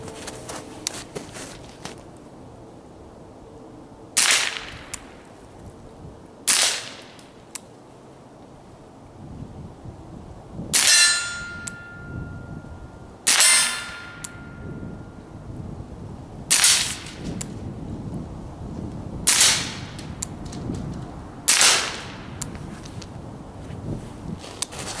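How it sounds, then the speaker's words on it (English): Rifle shots strike a plastic backstop and a steel target outdoors, giving about eight sharp, separate reports a few seconds apart over steady wind noise, with a few ringing metallic hits. "let's put a couple rounds into the backstop, just the plastic, a couple rounds on a steel target"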